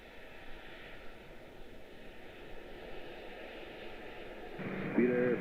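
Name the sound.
aircraft landing on runway 1 center at Washington Dulles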